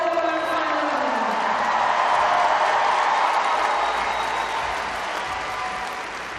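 A large arena crowd at the gymnastics world championships in Liverpool applauds and cheers loudly and steadily, with whistles rising and then slowly easing off, and no distinct talking.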